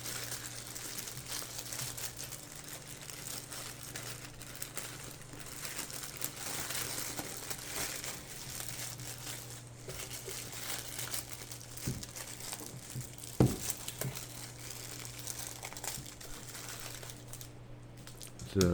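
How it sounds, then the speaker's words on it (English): Lithium iron phosphate battery (12.8 V, 20 Ah) pulled from snug plastic packaging, giving steady crinkling and rustling of plastic throughout, with a sharper crunch near the end and a low hum underneath. "Let's go ahead and get the battery out of the plastic here."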